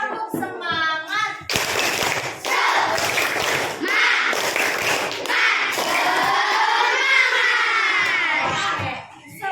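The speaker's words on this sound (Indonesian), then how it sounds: "Kita tepuk semangat bareng-bareng ya." Elementary schoolchildren in a classroom doing the rhythmic 'tepuk semangat' clapping chant together, with sharp group claps and shouted chanting voices, preceded by a teacher's voice.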